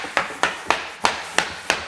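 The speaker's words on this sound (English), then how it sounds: "hit it with the plank hammer until it drops down." A hammer tapping a floor plank into place during flooring installation, six sharp wooden knocks at a steady rhythm, close and fairly loud.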